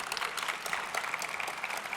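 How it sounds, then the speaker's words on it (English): An audience at a ribbon-cutting event for a concert hall applauds in a steady, moderately distant wash of clapping lasting about two seconds, with no talk over it. "Let's give another round of applause to Catherine Farley."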